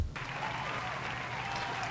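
Applause for a Tube-a-Thon participant, a dense, steady wash of clapping that starts abruptly and holds at an even level throughout.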